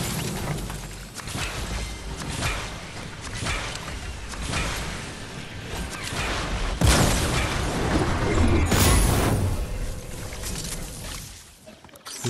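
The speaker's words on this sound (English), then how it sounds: "He's shooting rockets at me." Rocket explosions in Fortnite, a run of heavy booms and crashing blasts with whooshing debris, loud and close, building to a big impact before the noise dies away.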